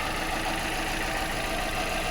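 A well-maintained Fiat Punto car engine idles quietly and evenly, a soft steady hum with faint mechanical ticking, nothing else standing out.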